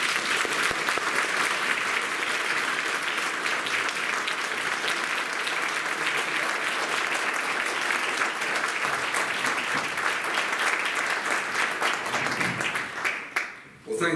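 A large seminar audience applauds steadily to welcome General Wesley Clark, dense sustained clapping filling the room for about thirteen seconds before tapering off abruptly.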